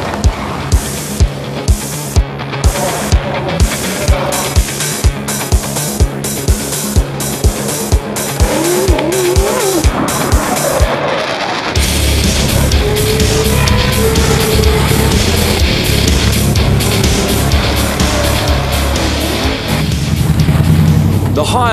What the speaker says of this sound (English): the next best place to be is at the V8 Supercar Triple Crown Cup here in